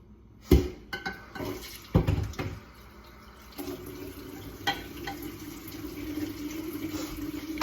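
Cooked spaghetti being drained at a kitchen sink: a few clattering knocks of a pot against the basin, then a steady rush of water pouring out that continues to the end, with no talk.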